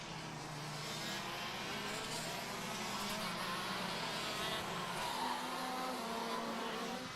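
KZ2 racing karts lapping a track during a national sprint championship heat, a continuous dense roar of engines with tire noise, held steady and loud throughout with no pause.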